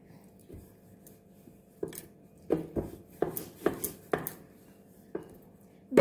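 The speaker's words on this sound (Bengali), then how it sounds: "একটা করে লেচি নেব আর আমি রুটির মতো করে বেলে নেব" Dough balls rolled out like roti with a rolling pin on a floured plate: scattered close knocks and soft thuds in an irregular rhythm, growing busier midway, with no voices.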